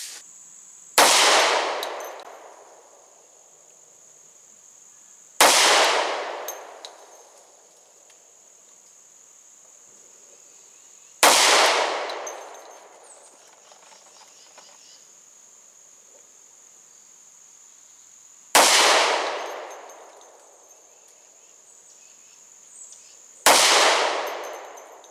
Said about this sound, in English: I'll shoot my 5 shots and we'll go check it out.